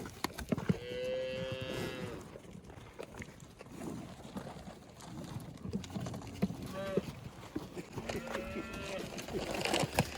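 Cattle moo repeatedly at a ranch in Bowie, Arizona, with several long, loud lowing calls from nearby animals spread across the clip, over outdoor background noise and some scattered talk.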